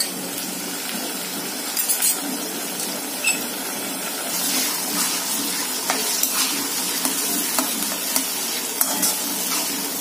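Chopped tomatoes sizzle and fry in a pan for misal pav, with a steady close frying hiss broken by occasional scrapes and knocks of a spoon stirring them.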